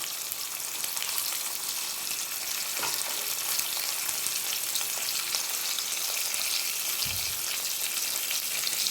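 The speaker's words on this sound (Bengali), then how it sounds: "এবার আমি অল্প একটু করে ডিম দেবো যাতে তলাটা কভার হয়ে যায়" Beaten egg is poured a little at a time into a pan over capsicum that has been cooking under a lid: a steady, moderate hiss of frying, with a couple of soft knocks from the pan.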